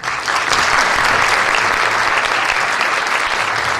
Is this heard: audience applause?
yes